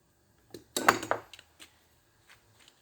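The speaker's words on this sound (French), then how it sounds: "Je prends, je coupe tout l'aluminium" Aluminium being cut from the gas distributor of a gas cooker during metal salvage, heard as a few sharp metallic clinks and snips clustered near the start, then fainter scattered taps, close and fairly quiet.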